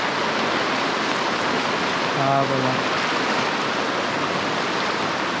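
A monsoon-flooded river in the Konkan rushes past in heavy rain, making a loud, unbroken roar of broadband water noise, with a voice briefly speaking over it.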